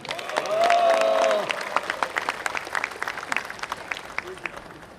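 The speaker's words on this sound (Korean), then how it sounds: "다시 한번 큰 박수 한번 해주시기 바랍니다" A crowd at a Korean War anniversary patriotic rally claps in scattered, uneven bursts, with a loud voice or tone sounding briefly at the start before the applause thins out toward the end.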